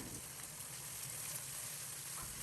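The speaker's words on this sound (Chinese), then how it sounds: "放入打好的蛋液，用勺子快速搅拌，把鸡蛋快速炒散。" Beaten egg frying in hot oil in a smoking-hot wok, stirred quickly with a ladle to scramble it, a constant close hiss and sizzle with soft scraping underneath.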